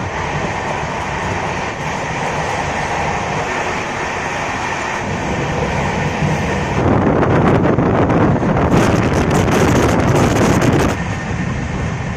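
The New Jalpaiguri–New Delhi SuperFast Express runs on time near Kishanganj. A steady heavy rumble and rattle of carriages carries throughout with wind buffeting, and it swells louder and harsher for several seconds in the middle before easing.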